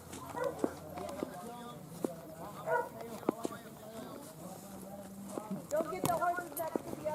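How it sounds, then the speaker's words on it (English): Horses walk on a muddy track on a Cuban countryside ride, hooves clip-clopping in an irregular, fairly close rhythm while people talk over the steps. "Good control for your horses?"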